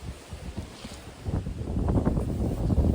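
Breezy morning wind blowing outdoors in a beekeeping yard, a rough, gusting rumble of wind buffeting close to the microphone that builds and grows louder through the second half.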